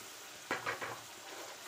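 Tomatoes hit hot frying masala with green chili in a pan, a brief burst of sizzling crackles over a steady low fry, faint and close.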